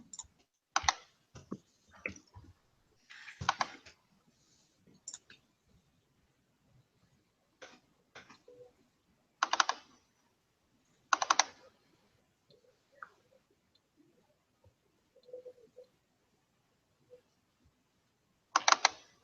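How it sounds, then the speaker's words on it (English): Fingers tap a computer keyboard in short irregular bursts of crisp clicks, with quiet gaps between the runs of keystrokes. "I'm just typing real quick."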